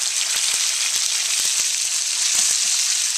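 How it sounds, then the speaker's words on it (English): Ground pork fries with browning spices in a hot pan for a ramen stir fry, a loud, steady sizzle with scattered crackles and light scraping taps as it is stirred. "next ingredient we'll put in will be the ground pork. And you'll see that the spices are already browning up"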